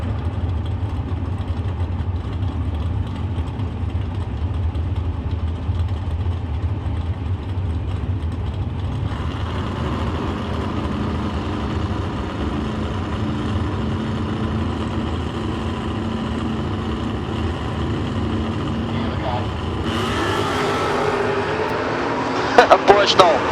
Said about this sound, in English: Couple of Camaros going at it.